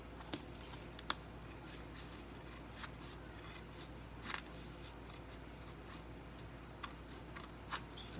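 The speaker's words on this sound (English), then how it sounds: "If it's showing, I'm going to cut it off." Scissors snip cardboard edges in short, sharp, separate cuts, several crisp clicks spaced irregularly over a quiet room background, close and fairly soft.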